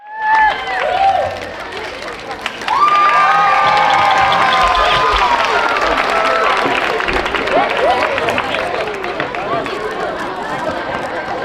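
A crowd at a grand opening day event cheers and applauds loudly, with shouting and children's voices layered over continuous clapping that swells early and stays strong throughout.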